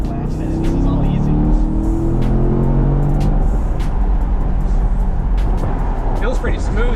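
Chevrolet C8 Corvette driving on a race track, its engine a loud, steady drone heard from inside the car, with someone talking over it throughout.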